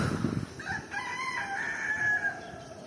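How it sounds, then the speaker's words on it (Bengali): A distant rooster crowing in the GTA 5 video game, one drawn-out crow following a short burst of noise, moderately faint over quiet ambient background with no speech. "তো দেখতে পাচ্ছেন একটা মোরগ ডাকছে ওই দূরের থেকে।"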